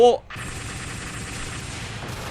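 Rapid automatic gunfire from a Mobile Suit mobile game plays as a sustained burst after a brief game sound, under a player's commentary.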